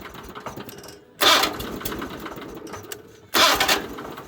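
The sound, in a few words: small engine starting without clicking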